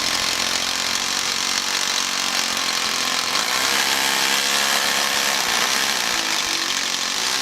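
A rotary hammer drills into concrete, giving a steady, loud, continuous rattling hammer roar that runs unbroken through the whole stretch.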